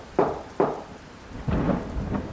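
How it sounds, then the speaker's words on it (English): Thunder rumbles in two sharp bursts, then swells into a longer roll over a steady wash of heavy rain drumming on a roof, with no voices. "the rain, which was coming harder now, drumming against the roof like impatient fingers"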